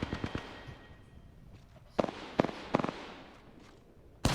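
Gunfire in Apex Legends: short bursts of rapid shots crack out in clusters, with quieter stretches between them and a loud burst at the end.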